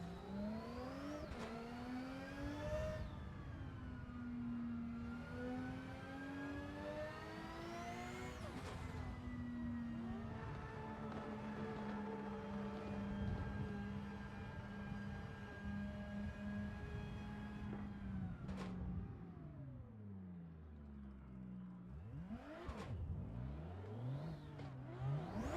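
A video game car engine revs and whines through rising and falling pitch sweeps while being driven erratically, holding steady loud drones before dropping into low, sputtering shifts near the end.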